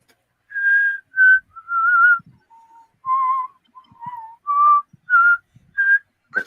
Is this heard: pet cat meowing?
no